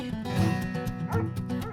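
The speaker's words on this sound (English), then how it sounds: "But the dogs drive Malaika Griffin barking mad." Two pet dogs barking and yipping in a rapid, continuous run of excited woofs with whiny edges, close and fairly loud throughout.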